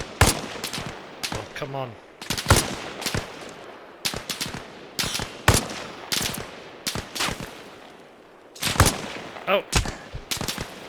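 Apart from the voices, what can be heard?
gunfire from other players, ARMA Reforger video game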